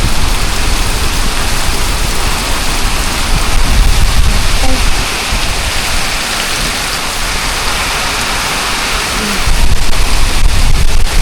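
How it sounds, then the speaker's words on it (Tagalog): Heavy typhoon rain pours down with strong gusting wind in a rural Philippine setting, a loud, dense, unbroken roar that swells and eases in waves. "Ay, Ginoo ko, ang lakas ng hangin. Lakas ng hangin, ulan."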